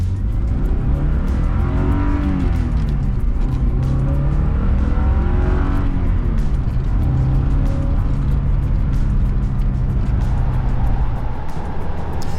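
A 1990s Porsche 944 S2 engine revs hard and climbs in pitch toward its 6,400 RPM redline, then shifts and pulls again, loud and close with a raspy drone.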